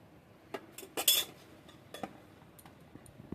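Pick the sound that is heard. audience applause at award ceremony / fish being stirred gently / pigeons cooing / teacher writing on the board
fish being stirred gently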